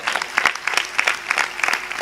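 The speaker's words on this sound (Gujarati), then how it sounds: "એક વખત ભુજ મંદિરને આ સેવા માટે જોરદાર તાળીઓથી વધાવો." An audience at a Gujarati comedy show in Bhuj applauding, a dense spell of many hands clapping close and steady for a couple of seconds, without talk.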